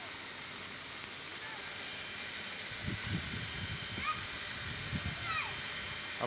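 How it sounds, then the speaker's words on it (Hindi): Heavy rain falls at the Karachi weather observatory, a steady broadband hiss of downpour with bursts of low splashing and spattering throughout, close and continuous, with someone speaking over it. "और इस वक्त तेज़ बारिश शुरू हो गई है जनाब"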